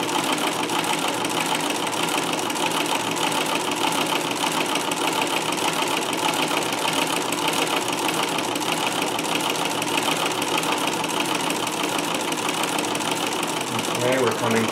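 A Davis vertical feed sewing machine stitches pin tucks with a continuous, steady mechanical chugging that runs throughout, close and even, with a person talking over it.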